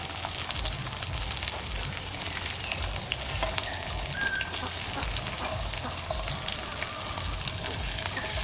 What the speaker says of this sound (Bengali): লতিটা ভাজবো, এবার তেল দিয়ে দেবো।